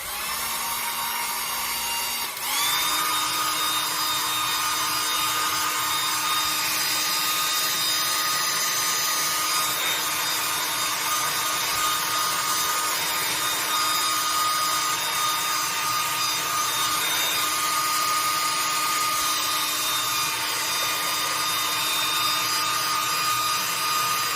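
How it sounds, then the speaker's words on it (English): A dryer blows steadily and loudly on a jute rope beehive, a continuous roaring whir that kicks up in pitch after a couple of seconds and holds without a break. "I'm going to hit this with the dryer. Watch your ears."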